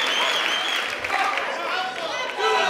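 Studio audience applauding throughout a Spanish late-night TV show, a sustained dense wash of clapping that stays loud from start to finish.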